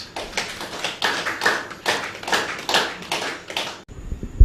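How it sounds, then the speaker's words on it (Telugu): An audience at a spiritual talk on the Buddha's eightfold path claps in slow, rhythmic unison, about a dozen sharp, fairly loud strikes spaced evenly before stopping abruptly near the end. "మీ అందరికి కూడా క్లాప్స్"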